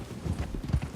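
Horse hooves clip-clop in Red Dead Redemption 2, a quick rhythmic run of soft thuds from a walking or trotting horse, moderately close and fairly quiet, with a faint game ambience behind.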